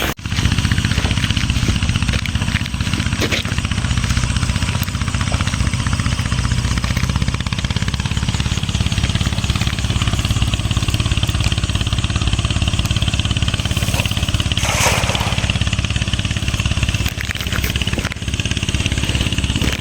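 A tractor engine runs steadily at close range, a loud low chugging drone that holds constant with small surges in pitch.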